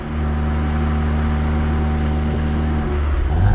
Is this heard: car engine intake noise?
yes